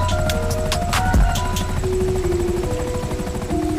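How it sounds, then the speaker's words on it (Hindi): A helicopter in a zombie-survival video game lifts off, its rotor thudding in a loud, steady chop as the engine tone rises, with some game sounds mixed in and no talk. "बाबा के बैठते ही हेड ऑफिसर हेलीकॉप्टर लेकर यहाँ से निकल जाता है।"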